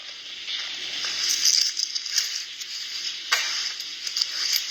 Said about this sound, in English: That was his keys.